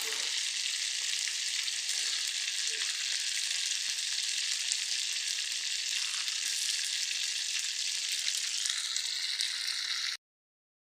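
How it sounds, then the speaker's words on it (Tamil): Fish frying in a pan, a dense, even, close sizzle that runs unbroken for about ten seconds and then cuts off abruptly. "மீனை பெரட்டி போட்டாச்சு நண்பர்களே பாருங்கள் மீன் நல்லா வெந்திருக்கு"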